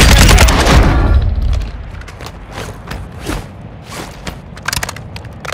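Gunfire in the video game Call of Duty: Modern Warfare II opens with a loud, booming burst of shots, then thins out into scattered distant cracks and thuds.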